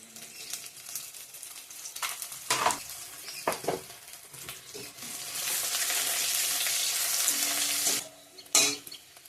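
Dried red chilies and bay leaves sizzling in hot oil, with soft stirring scrapes and crackles at first, then a steadier frying hiss, close and fairly quiet.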